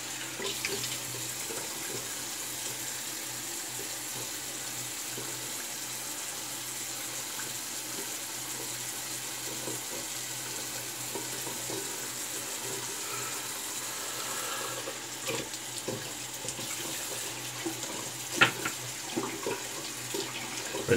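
A tap runs steadily into a sink while the face is rinsed after a wet shave, a constant close gush with a few splashy bumps toward the end and no talking.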